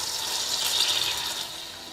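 Half a cup of cream poured into a pan for Alfredo sauce, a steady close liquid splash and trickle lasting about two seconds, with no voices.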